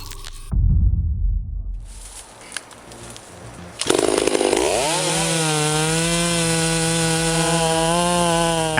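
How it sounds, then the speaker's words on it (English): A big chainsaw bites into a century-old sugar pine, first with a thud and crackle of wood, then a loud, steady high-pitched whine as the saw runs at full speed through the trunk, close and continuous. "See the world's fastest saws devour entire trees"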